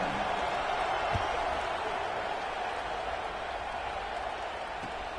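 Steady wash of crowd noise fills a stadium in an American football video game as a North Carolina team lines up for a kickoff, a continuous broad roar with no clear peaks.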